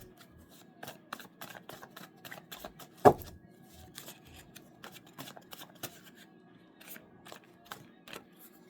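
Angel cards being shuffled by hand, quiet close-up riffling and flicking in irregular bursts with one sharper snap partway through, with no talk.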